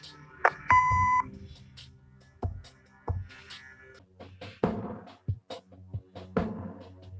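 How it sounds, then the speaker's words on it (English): A single short, steady answering machine beep sounds near the start in the Kathy Rain video game, followed by quiet, sparse rustles and clicks. "Leave a message after the beep."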